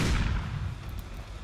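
Gunfire in a shooter video game, a burst of low booming shots that is loud at the start and then fades into a rumbling tail, with no voices over it.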